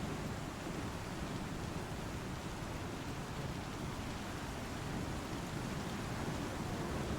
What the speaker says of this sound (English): This rain ain't making it any easier.